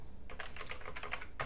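Someone types a terminal command on a computer keyboard while installing Manjaro Linux, with a quick run of close, crisp key clicks and no talking.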